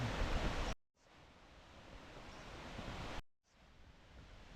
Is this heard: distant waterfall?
yes